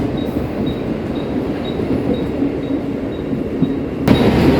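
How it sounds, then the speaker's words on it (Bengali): A Mumbai local commuter train rumbles along at a steady pace, with a faint repeating high beep over the running noise; no one speaks. "অন্ধ্রি স্টেশন থেকে ট্রেনে উঠে পড়লাম"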